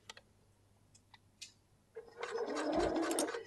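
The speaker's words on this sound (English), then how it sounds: "I can then lower my presser foot so my foot is now lovely and level, and then start stitching." A few quiet clicks and taps come first, then a sewing machine starts stitching fabric over a bulky seam aid, running in a close, steady mechanical whir to the end.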